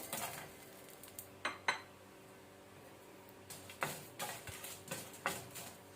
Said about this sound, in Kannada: ಈಗ ಸೇಮ್ ಪ್ಯಾನಿಗೆ ನಾವು ಡ್ರೈ ರೆಡ್ ಚಿಲ್ಲಿ ಹಾಕೋಣ